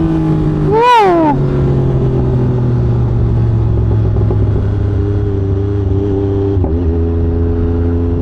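A Yamaha MT-09 Gen 4 motorcycle with its CP3 triple engine blips once sharply to a high rev, then settles into a loud, steady idle rumble close by, with a brief shout over the first rev.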